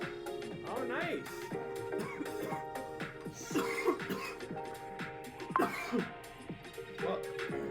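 Harsh coughing and throat clearing in several bursts, close and loud, interspersed with raspy exhales and people talking nearby.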